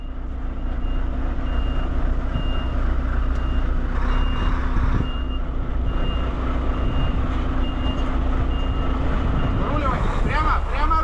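A Volvo FH 540 truck reverses aboard a river ferry while a steady, evenly spaced reversing beep repeats over a loud, continuous diesel engine rumble; a man calls out directions over the noise.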